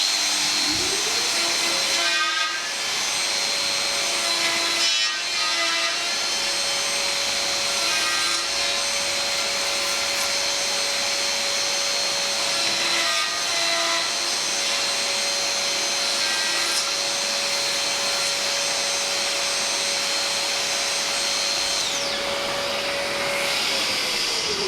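A Festool VS 600 jointing system runs steadily through wood, a loud continuous machine whine with a high steady tone and a rasping cut that rises and falls in passes, with no talk.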